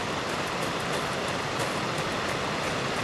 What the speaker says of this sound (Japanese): 滝じゃん。